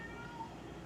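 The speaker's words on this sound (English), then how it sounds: "I don't know what my cat's doing." A pet cat meows faintly indoors, a short quiet cry over a low steady hum.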